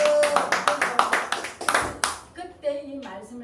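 Congregation in a church service claps together in a burst of sharp, rhythmic applause that fades after about two seconds, followed by someone speaking.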